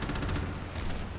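Gunfire in the video game Crackdown: a rapid, loud burst of repeated shots rolling into one another for about a second, dense and booming, with no talking over it.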